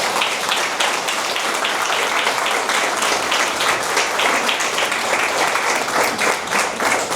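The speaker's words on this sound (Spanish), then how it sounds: "Le damos un fuerte aplauso a Jesús." Sustained, dense applause from a church congregation fills the space evenly for several seconds, steady and fairly loud with no voices standing out.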